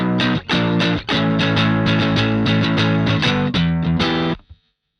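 An electric guitar played through a very light distortion patch on an Empress Zoia pedal, giving a subtle crunch as loud strummed chords ring out and then cut off abruptly into silence.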